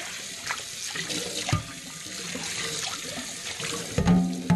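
Hot tap water runs steadily over a cast iron pan being rinsed after a coarse sea salt scrub, a continuous splashing rush with brief clanks of the pan near the end.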